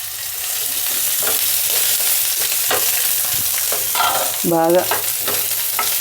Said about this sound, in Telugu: చూడండి ఉల్లిపాయలు అయితే కొద్దిగా వేగినాయి కదా